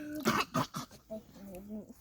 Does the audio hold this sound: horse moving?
no